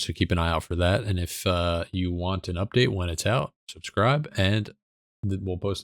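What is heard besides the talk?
No distinct noise like a dog, phone or traffic.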